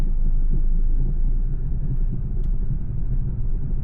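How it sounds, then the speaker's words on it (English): A Ford Focus rolling very slowly on a flat tyre, heard from inside as a steady, close, low rumble that holds at an even level with no talk. "So I'm quite content with driving very slowly to the workshop with its flat tyre."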